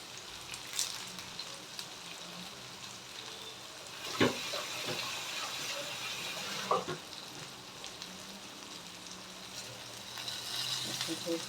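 Onions with curry leaves and coriander fry in a pan, giving a continuous close sizzle with a few sharp clinks and scrapes of stirring scattered through.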